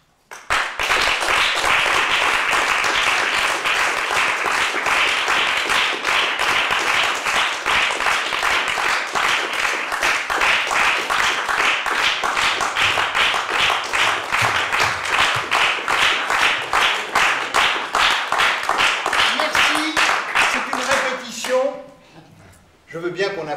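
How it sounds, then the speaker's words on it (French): Dense, sustained applause from an audience at a dance rehearsal at Béjart's school, with rapid overlapping claps loud and steady for about twenty seconds before abruptly dying away into a few scattered claps. "Je veux bien qu'on applaudisse quand on enseigne chez Béjart"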